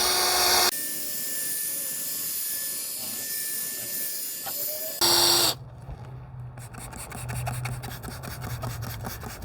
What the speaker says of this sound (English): we're gonna wet sand it while the drill is going